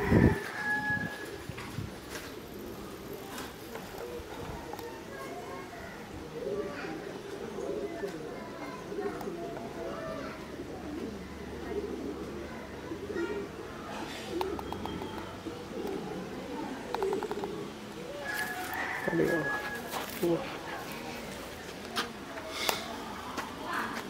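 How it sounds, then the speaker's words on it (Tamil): Racing pigeon cooing, soft low murmuring coos close by, with other birds calling and people talking throughout. "ஆமாண்ணா, இதான் நம்ம பறந்த புறா."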